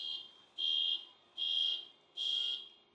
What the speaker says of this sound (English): This car alarm, I'm serious, this goes off about 3 times every day.